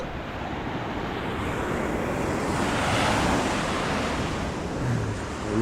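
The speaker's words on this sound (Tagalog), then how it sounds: "parang ang lakas ng dagat" Strong sea waves surge and roar continuously on open water at early morning, a dense steady wash mixed with wind buffeting the microphone, with no voices.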